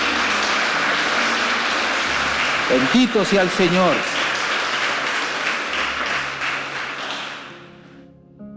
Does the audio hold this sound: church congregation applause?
yes